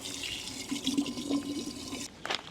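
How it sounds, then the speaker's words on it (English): Steady running water from a tap in an RV, a broadband hiss with some splashing, cutting off abruptly near the end followed by a brief clatter. "Turn on the water."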